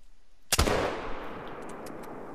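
A single loud rifle shot fired at a bull moose in a hunting video game, a sharp close crack followed by a long rolling echo that fades over two seconds.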